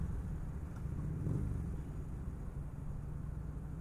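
Steady low engine rumble with a throaty exhaust drone from an FKM Victorino 250i motorcycle, continuous and fairly close, no voices.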